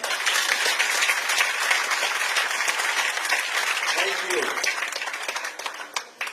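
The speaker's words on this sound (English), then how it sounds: "Ladies and gentlemen, can you please clap for the Minister of Health?" An audience applauds the Minister of Health at the commissioning of a solar power installation for a hospital, with sustained, dense clapping that fades slightly toward the end, and a brief spoken word heard near the close.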